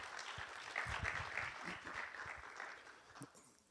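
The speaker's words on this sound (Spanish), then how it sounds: "Un aplauso, por favor" Audience applause for a speaker at a presentation on a pedestrian crossing safety index, a steady wash of clapping from a moderate-sized crowd that holds for a few seconds and then thins out.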